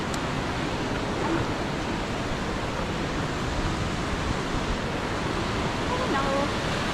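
A river flows beside a mountain trail run on Mt. Ayaas in Montalban, a steady broadband rush of water filling the whole stretch at moderate loudness.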